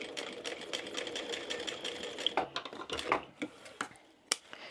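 A sewing machine stitches a small crossbody wristlet bag in short rapid bursts, fairly close and quiet, with brief pauses and light clicks between runs and no talking.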